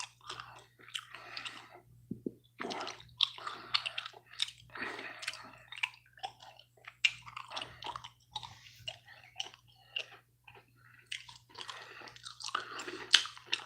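Someone chews and crunches snacks close to the mic, with irregular bursts of crisp crunching and softer wet chewing sounds over quiet pauses. No one talks.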